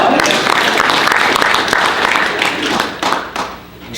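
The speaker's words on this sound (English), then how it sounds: "Let's give Kara a round of applause" Conference audience at a tech keynote applauds, a dense burst of clapping that starts loud and close, then thins and fades near the end.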